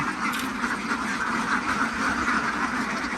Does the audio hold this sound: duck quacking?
yes